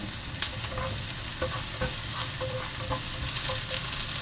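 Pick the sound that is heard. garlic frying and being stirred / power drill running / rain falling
garlic frying and being stirred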